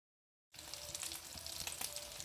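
Chicken shami kababs frying in hot oil, a steady close sizzle with crackling pops that starts abruptly after a half-second of silence and holds throughout.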